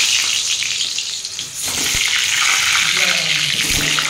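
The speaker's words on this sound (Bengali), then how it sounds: "এবার আমি আলুগুলো ভেজে নেব।" Potato chunks dropped into hot mustard oil in a wok, a loud steady sizzle with sharp crackles and clunks as pieces go in, a brief dip midway before the hiss grows fuller.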